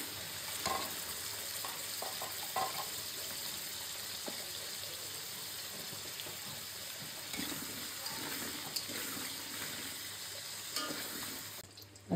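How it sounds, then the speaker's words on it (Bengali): Potatoes frying in a pan for a beef curry with chui jhal, a steady close sizzle with occasional stirring scrapes running throughout, no talking. "এখন আমি গরুর মাংসের আলুগুলি ভেজে নিচ্ছি মাংস দিয়ে দেওয়ার জন্য।"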